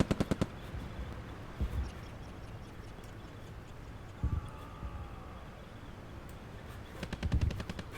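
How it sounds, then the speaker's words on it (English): Gunfire in the Korean War video game Theatre of War 3 Korea: short rattling bursts of rapid shots at the start and end, with a few isolated sharp cracks in between, over a low ambient rumble. "I see some shots over here. Could be sniper fire."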